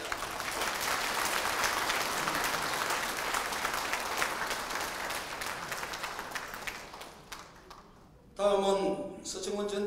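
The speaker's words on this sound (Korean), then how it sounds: "다 같이 큰 박수로 격려의 큰 박수를 부탁합니다." A large audience at a Busan BEXCO political campaign event applauds loudly and steadily for about eight seconds. The clapping then fades and a voice speaks over a public-address system.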